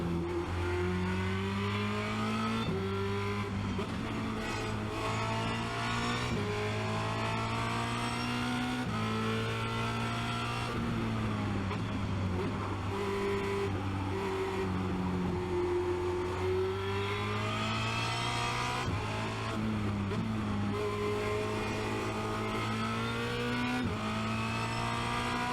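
A Formula Renault 2.0 race car at Spa-Francorchamps accelerates hard, its loud engine note climbing steadily through the gears with brief shift dips, close and continuous for the whole stretch.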